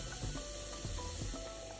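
Minced meat frying in a dry pan without oil gives a steady, close sizzle and hiss, with a few faint stirring scrapes.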